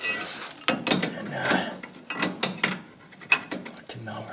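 A crescent wrench works on a tie rod bolt of a 2001 Ford Explorer Sport Trac, with close irregular metallic clicks, clinks and ratcheting scrapes in short bursts amid quieter pauses.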